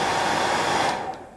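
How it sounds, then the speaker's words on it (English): A handheld hair dryer blows on a freshly tied CDC Waterhen Bloa soft hackle wet fly, a loud, steady airy roar close up that cuts off sharply near the end and trails into quiet. "I'm going to use the hairdryer through this just to show you."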